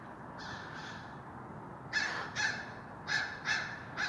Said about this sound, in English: I don't think the crows are happy.